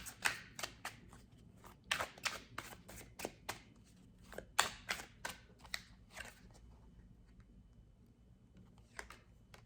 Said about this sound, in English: Let's get some cards to see the potential outcomes for our Sagittarius